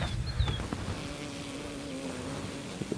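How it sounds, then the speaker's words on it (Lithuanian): Calm honeybees hum around a beehive at dusk, a soft continuous buzzing with a faint droning tone and a few close fly-by whirs over low background rumble. "Kaip matot, bitutės gan ramios, net dūmų nedaviau."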